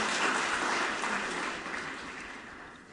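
Scattered applause at a Botswana government address to the public service, a broad steady wash of claps that fades gradually over a few seconds with no voices.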